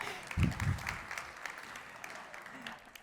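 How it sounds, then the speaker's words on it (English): A round of applause for a startup finalist at a pitch competition, moderate clapping from a crowd that opens with a couple of heavy thumps and gradually thins out, with a voice briefly heard beneath. "Please, round of applause for him as well."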